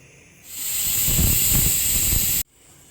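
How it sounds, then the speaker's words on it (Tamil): A kitchen pressure cooker holding baby corn gravy lets off its first whistle: a loud, steady, close-up jet of hissing steam that starts abruptly, holds for about two seconds and cuts off sharply. "ஒரு விசில் வந்துடுச்சு."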